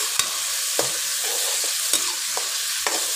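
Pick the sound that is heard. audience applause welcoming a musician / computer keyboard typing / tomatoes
tomatoes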